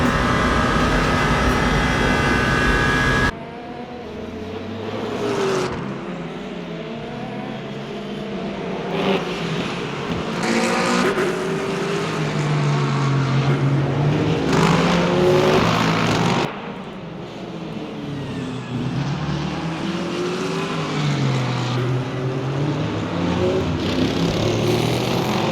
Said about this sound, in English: it sure is a pleasure to be able to take in all the different engine notes here at Le Mans